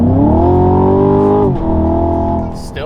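A car with a Valvetronic Designs exhaust, valves closed, is floored so the engine drones in one loud, sustained rev that dips briefly midway and then rises again, with a little background noise toward the end.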